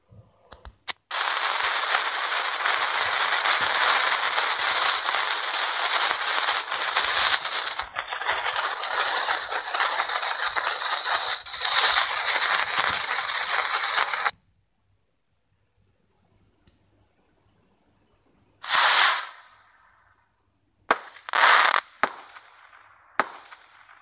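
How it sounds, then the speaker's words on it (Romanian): Fireworks and firecrackers go off in a loud, continuous dense crackling barrage for about thirteen seconds, then stop, followed by a few separate sharp bursts and pops after a quiet pause. "Iar noi vom da astăzi artificii."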